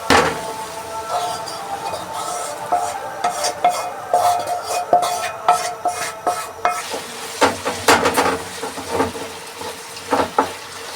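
Chicken hearts sizzle and fry in a pan while being stirred, with intermittent metallic clinks and scrapes of a utensil against the pan, close and fairly loud throughout.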